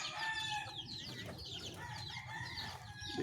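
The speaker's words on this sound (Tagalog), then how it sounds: "ang ating mga alagang manok" Pet chickens clucking in their coop, a busy overlapping chorus of clucks and squawks with a rooster crow among them, steady and fairly close.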